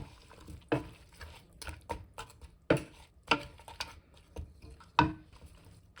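Forest berry jam with cinnamon being stirred in a pot: a run of soft scraping strokes punctuated by sharper knocks of the spoon against the pot, close and fairly quiet, with no talk.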